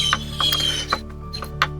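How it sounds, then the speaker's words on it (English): Bolt turned to tighten a nut while assembling a budget garden bench, a quick series of clicking ratchet-like metal ticks in an uneven rhythm, close and clear with no talking. "grab the nut below and then just turn the bolt till it's tight"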